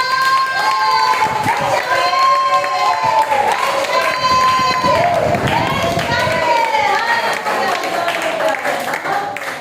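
Congregation clapping at a church vigil prayer meeting, a dense sustained patter running the full length over sung or spoken voices with tonal music.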